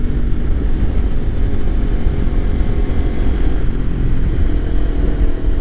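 A Kawasaki Ninja 300 engine drones steadily under throttle while riding on a cold day, a loud, continuous low rumble blended with wind roar and no talk.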